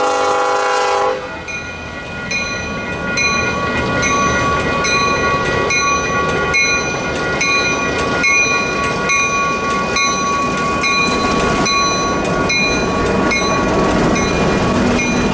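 A scenic excursion train on the Woodstown Central Railroad heads north past Oldmans Creek Road, rumbling and clacking steadily up close while its horn sounds in repeated long blasts over the running noise.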